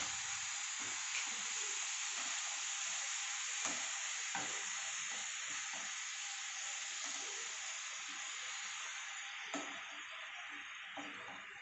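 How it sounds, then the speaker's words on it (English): Pasta in a pan hisses and sizzles steadily during a school cooking challenge, with faint scraping and clinking from stirring underneath, quiet and close, with no talking. "Now I'm going to add the pasta. And I'm going to stir it again."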